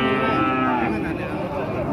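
Cattle moo loudly and close by at a busy livestock market, a sustained bellowing call filling the moment with crowd murmur and faint voices beneath.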